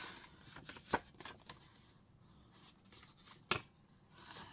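Paper scraps are trimmed on a cutter, giving two faint, sharp snips over quiet room noise, one early and one near the end.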